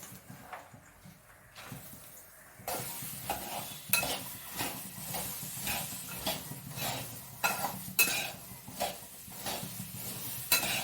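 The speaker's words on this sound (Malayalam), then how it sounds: "ഈ സമയത്ത് നമുക്ക് കപ്പലണ്ടി ഇട്ട് കൊടുക്കാം" Peanuts stirred and roasted in hot salt in a pan, gritty repeated scraping and rattling strokes in a steady rhythm, close up, after a quieter opening.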